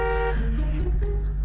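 A car horn sounds as a sustained hoot with a clear tonal buzz, close and fairly loud over a low rumble, and a brief pause in the middle.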